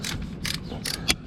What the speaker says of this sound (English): now I'm ratcheting it down